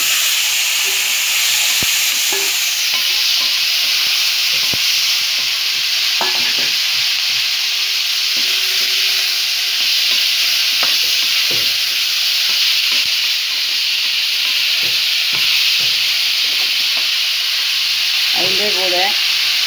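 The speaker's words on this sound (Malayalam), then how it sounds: "ഇതൊന്ന് മൂത്ത ശേഷം കോവയ്ക്ക ഇട്ട് നല്ല വതക്കണം." Onions with ginger paste sautéed in a pan, with ivy gourd added, give a steady loud sizzle and hiss throughout, broken by occasional scrapes and stirring clatter from a spoon in the pan.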